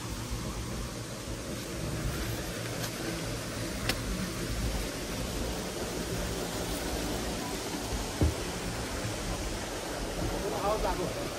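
Constant rushing water at a dam roars steadily like a spillway, a broad even wash of sound, with faint voices barely audible underneath.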